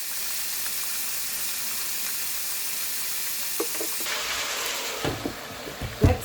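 Chicken sizzles steadily in a hot pan after being seasoned with salt, spice and pepper, a continuous close frying hiss with a few soft clatters and knocks near the end.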